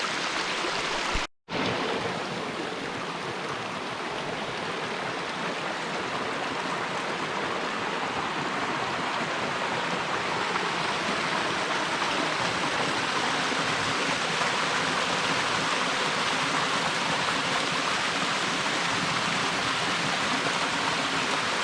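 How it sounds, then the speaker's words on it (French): Small waterfalls in a mountain stream in the Vercors pour steadily, a close, dense broadband rush of water that holds unbroken throughout after a momentary dropout near the start, with no voices. "Ah, il y a des jolies petites cascades."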